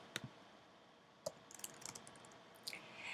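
Scattered keystrokes on a computer keyboard, a few quiet isolated clicks followed by a short burst of faster taps, close and soft against a low room hiss.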